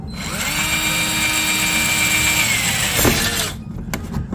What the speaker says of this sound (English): we're gonna go ahead and drill again at the center